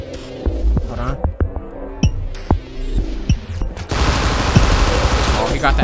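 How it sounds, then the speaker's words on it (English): Shotgun blasts in GTA 5 boom out as sharp, loud bursts at an irregular pace over game music and rumble, then dense noisy gunfire rises toward the end, with voices talking underneath. "I got that Fortnite tech shotgun."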